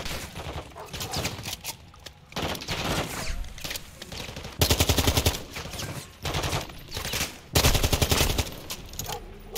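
Assault rifle bursts in Call of Duty Modern Warfare II, dense loud gunfire in repeated short bursts mixed with battle noise and other weapons, continuous throughout.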